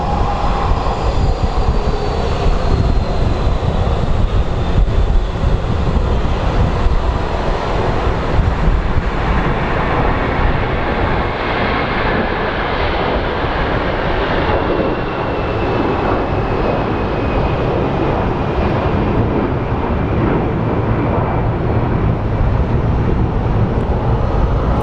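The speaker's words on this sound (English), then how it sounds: "Looks like he is doing a crosswind landing." A jet airliner makes a crosswind landing at Phoenix Sky Harbor International Airport, giving a steady, loud engine roar that stays close and constant throughout, with broadband rumble and a faint whine drifting downward in pitch.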